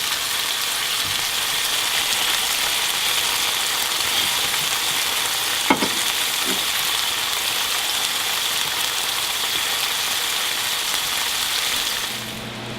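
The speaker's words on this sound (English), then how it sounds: "So don't be afraid to rotate your salmon and get your grill marks on every side" Glazed salmon sizzles steadily on a grill, a dense, even frying hiss filling the whole stretch with a brief clank midway and no voices.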